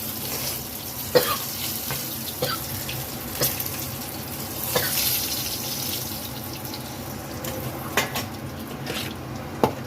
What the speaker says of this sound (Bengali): এবার আর মাছগুলো ভাজবো।